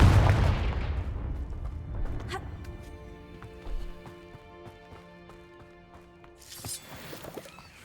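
A Confringo spell blast in Hogwarts Legacy, set in a winter setting, opens with a loud booming impact that fades into a long ringing decay, followed by lighter crackling hits and a faint swell near the end.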